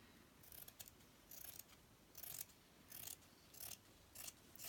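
Scissors cutting thick hemp trim for a ruffle trim roll, heard as several short crisp snipping bursts spaced across the moment, fairly quiet and close with no talking.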